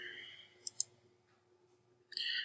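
Two quick, faint mouse clicks on a computer, closely spaced in near silence and followed by a brief soft rustle.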